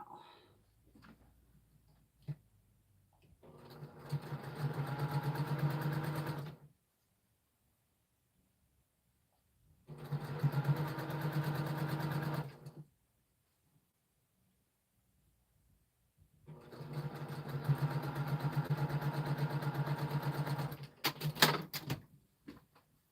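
Sewing machine stitching a quilt block in three separate bursts of steady whirring, each a few seconds long, with quiet pauses between and a few small clicks at the end.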